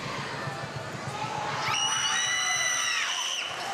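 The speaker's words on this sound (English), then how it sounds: "Crowd getting loud there" A crowd at a high school basketball game rises into loud cheering and shouting, with whoops and high screams swelling midway over a constant gym murmur, then easing slightly at the end.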